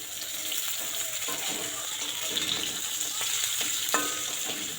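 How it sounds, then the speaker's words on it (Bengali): Okra and potato pieces fry in oil in a pan, giving a steady close sizzle with occasional stirring scrapes and no talk. "খুব ভালো করে এটা ঢ্যাঁড়সটাকে ভাজতে লাগবে"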